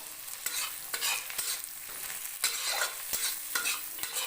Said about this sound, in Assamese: আৰু এইখিনি বিলাহীখিনি মই কোমল হোৱালৈ ভাজি থাকিম।